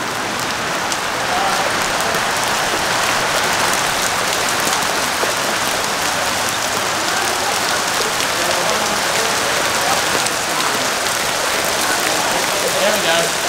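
A dense, loud, continuous patter of hail drumming on a Ford Ranger Raptor, like ice hammering a car roof, steady throughout.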